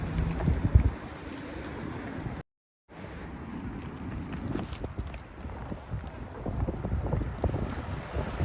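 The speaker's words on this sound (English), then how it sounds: "Super windy" Strong wind buffets the microphone in loud, rumbling gusts on a city street in Saint Petersburg, Russia, with a brief dropout partway through before the roaring wind resumes.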